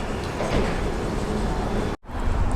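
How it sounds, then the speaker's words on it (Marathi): A London Underground train pulls into Hounslow East station with a steady, close rumble and roar that cuts off briefly near the end before resuming. "आता आमची ट्रेन आली आहे"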